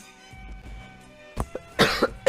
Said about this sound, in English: I apologize about my coughing.